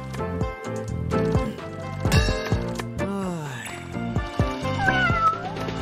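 In the Fortune Tiger slot video game by PG, a tiger sound effect comes out as a series of cat-like meows and yowls over busy game music, with someone talking throughout.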